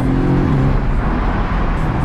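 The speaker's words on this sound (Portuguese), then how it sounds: "vou dar uma aceleradinha nesse carro aqui" A Porsche convertible's engine runs loud and close, a dense low rumble with a steady throaty drone that holds without clear rises in pitch.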